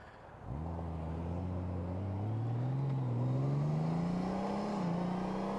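A 2018 Honda Goldwing motorcycle accelerating in sport mode, its engine drone rising steadily in pitch after a sudden onset, close and continuous, with no voices.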